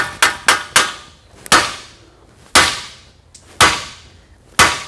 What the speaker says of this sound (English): gotta get the big boy hammer